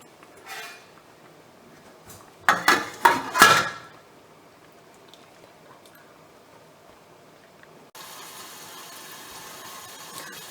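Several quick metallic clanks as a lid is set onto a pot of pork chops and tomato soup, a short clattering cluster, followed by quiet and then a faint steady hiss.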